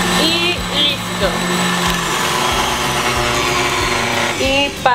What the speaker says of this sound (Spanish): le voy a dar en una velocidad alta, que ya es la 6, uno más, unos 15 segunditos de batido y listo